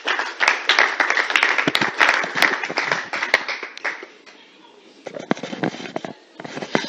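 Clapping from an audience at an international women's rights conference as a journalist comes forward, loud and dense at first, then dipping to near quiet before scattered claps pick up again.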